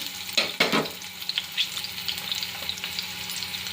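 Green chilies hit hot oil in a kadai for veg pulao, giving a steady close sizzle with a couple of louder spattering bursts near the start and stirring scrapes throughout.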